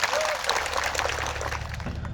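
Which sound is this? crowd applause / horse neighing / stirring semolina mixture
crowd applause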